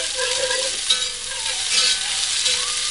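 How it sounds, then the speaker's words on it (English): Whisking milk, thyme, rosemary, garlic, salt, pepper and flour together in a kitchen, with a steady bright sizzle from caramelizing onions beside it, heard alone and close with no talk. "you want to go ahead and whisk this together to get it nice and smooth"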